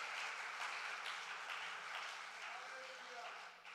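A church congregation claps in praise with a steady, dense patter, faint and distant, while a voice speaks over it.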